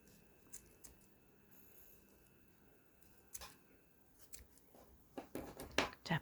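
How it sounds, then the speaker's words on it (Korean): Scissors snip through knitting yarn while a hat is being finished, a few faint scattered clicks early on, then a denser run of sharp cuts near the end, close by and with no talk. "가위로 이렇게 잘라내셔도"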